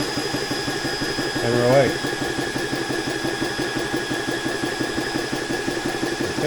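An Air King 300 Outback battery-powered air compressor runs with a steady rhythmic mechanical chugging while filling a PCP air rifle, close by, with a brief spoken remark early on.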